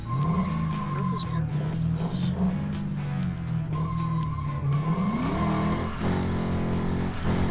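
Lego car racing and sliding in the video game Lego 2K Drive, with a steady engine drone, long tire squeals during skids and rising revs as it accelerates, all at close, constant loudness.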